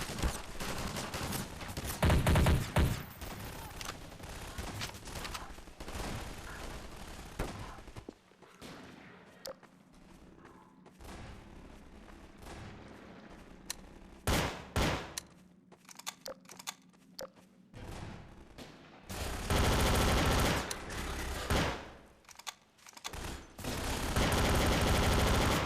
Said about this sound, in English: So we can still hear gunfire.